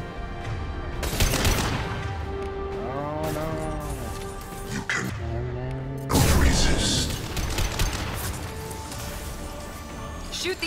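Gunfire in Mass Effect 2 aimed at injection tubes, loud crackling bursts of shots and impacts mixed with game effects and tonal sweeps, with a voice talking over parts of it.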